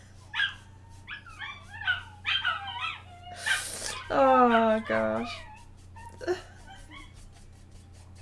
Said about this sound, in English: There's a couple of dogs in the neighbourhood, and they've started howling, and my dogs are howling back.